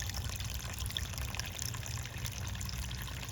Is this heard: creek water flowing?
yes